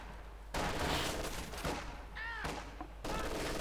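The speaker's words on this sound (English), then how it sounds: "the heavy machine gun here stopping up the advance into the centre." Heavy machine gun fire in a Company of Heroes 2 battle, loud dense bursts of rapid gunfire that stop and restart in short volleys, with a brief whistling tone in between.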